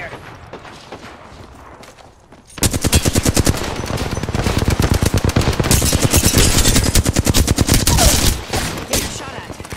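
Loud, sustained automatic gunfire from the Apex Legends video game erupts after a quieter opening and keeps hammering in dense rapid bursts, with faint game voice callouts underneath.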